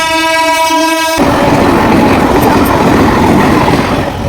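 A train passing at the Bauria railway level crossing, opening with a loud horn blast, then a close, heavy rush of wheels and carriages rumbling past continuously, with no talk.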